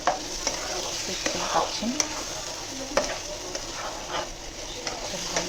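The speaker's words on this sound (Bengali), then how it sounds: "এবার এটাকে আমি নাড়াচ্ছি" Chicken being stirred in a frying pan for a ghee roast, with a steady sizzle and repeated scraping strokes throughout, while a person talks briefly.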